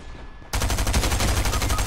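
Rapid automatic gunfire breaks out suddenly in the Fortnite video game after a quiet half second, a loud, close, continuous burst of shots.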